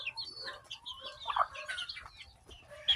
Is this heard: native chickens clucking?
yes